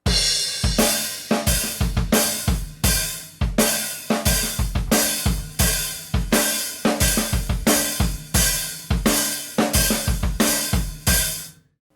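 Rock drum beat with bass drum, snare and a sloshy quarter-note hi-hat, played as a steady, loud, punchy groove for about twelve seconds with no talking.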